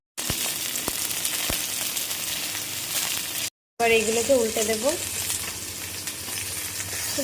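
Rohu fish paturi, parcels of fish and paste, sizzles and fries steadily in hot oil in a wok, with a brief break and a few clicks while a voice speaks partway through.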